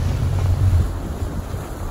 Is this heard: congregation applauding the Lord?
no